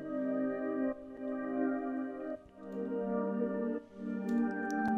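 A pitched-down synth melody made in FL Studio sustains in chords with a sidechained kick pumping the volume in regular dips, mid-level and without voices.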